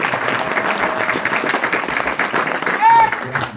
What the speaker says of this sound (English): Keep round of applause, please, for Steve Strazer.